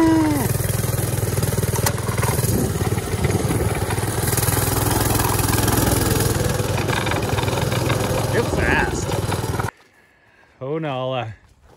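A motorcycle engine running loudly and close on a dirt track, a steady rough drone with revving swells for most of the stretch, then cutting out before a brief raised voice.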